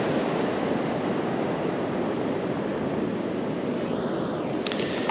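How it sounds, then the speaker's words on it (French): Steady broadband rush of surf washing continuously on a morning shore during shore fishing, with wind buffeting the microphone; no voices. "Vous entendez le bruit des vagues."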